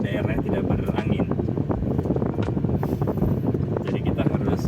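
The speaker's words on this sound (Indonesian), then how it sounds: "Di Pantai Gelaga ini yang anginnya kencang" Strong wind buffets the microphone on Gelaga beach, a loud continuous rumbling roar with gusty flutter throughout the whole stretch.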